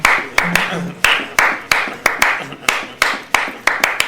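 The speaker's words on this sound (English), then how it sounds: "But have hand claps do it." Hand claps are recorded in a studio for a progressive rock song, loud sharp claps in a steady, slightly uneven rhythm, with brief talking between them.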